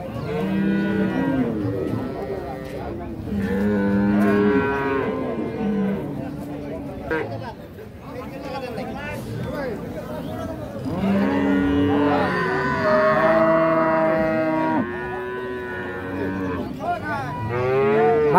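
A Holstein Friesian cow on a farm in Cumilla gives several long, loud, drawn-out moos close by, with brief pauses between calls and occasional background chatter.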